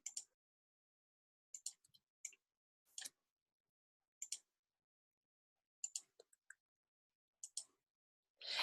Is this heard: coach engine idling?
no